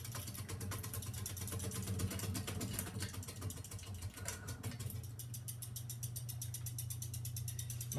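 Halsey GEV ceiling fan turning on high speed gives a faint, steady motor hum with a low drone and light ticking, quiet and continuous with no voices.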